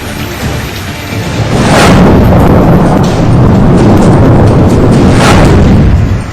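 Heavy, continuous rain pours down during flooding in Koriya district, Chhattisgarh, a loud dense roar that swells and holds steady throughout, with brief deeper rumbles.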